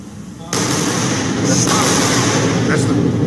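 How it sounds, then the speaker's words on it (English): Two sonic booms from a pair of Falcon Heavy side boosters landing on the Florida coast, heard as a sudden loud onset followed by sustained rumbling, with a second swell about a second later. "That's the double sonic booms."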